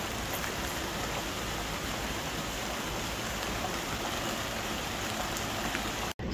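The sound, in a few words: rain falling on fig trees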